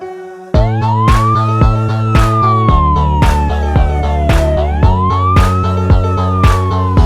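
A loud fire engine siren wails, rising and falling in long sweeps, over a bouncy repeating musical beat with bright percussion hits.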